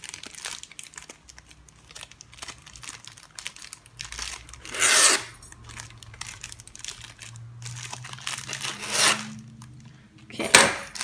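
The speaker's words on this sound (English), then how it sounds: "try and don't get the ribbon caught in between your scissors because then it will be cut and not curled." Ribbon being curled by drawing it along a scissor blade: a faint run of soft scraping and rubbing, with several louder, brief rasping swipes standing out from a quiet background. No talk.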